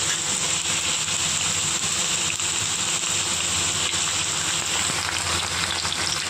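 Potatoes sizzle steadily in hot oil in a frying pan while a Bengali lote fish curry is being cooked, a loud, even, continuous hiss with no pauses.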